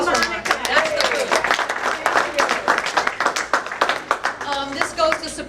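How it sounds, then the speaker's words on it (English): A small audience at a Montecito Motor Classic media event claps for Monica, with uneven bursts of individual hand claps close by and voices mixed in. "Round of applause for Monica."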